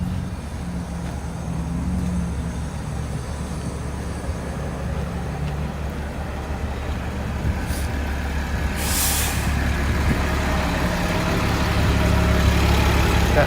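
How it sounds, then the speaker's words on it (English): Express city bus with air brakes in Toronto traffic on a chilly day, a steady low engine rumble with a brief sharp hiss of air release partway through, loud and close, no talking. "That bus on the left is a 929. That's an express bus."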